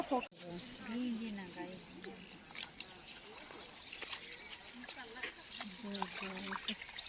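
Water pours and trickles faintly near a river during a Teej festival outing toward a temple in Maihar. The sound stays low and steady, with voices talking over it.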